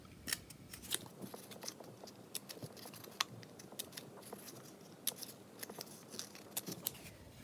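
Scissors make a series of small snips around the end of a cardboard tube, close and crisp, with irregular clicking cuts and a short pause as the tube is turned, no voices.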